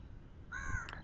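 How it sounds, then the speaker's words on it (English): Crows caw in the background outdoors, a single drawn-out call followed by a short second caw, moderately distant and fairly faint. "it's nice to hear birds in the background"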